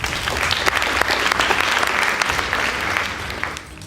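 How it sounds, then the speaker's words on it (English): A studio audience at a secondary-school quiz show applauds the winning team with loud, continuous, dense clapping that holds steady throughout before easing off slightly at the end. "Please give them a round of applause."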